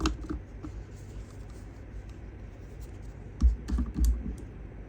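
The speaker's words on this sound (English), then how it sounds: "then you just cut your corners off" Scissors snipping the corners off paper tags held under a template, a few quiet clicks and scrapes followed by a cluster of sharper cuts near the end, close and unaccompanied by speech.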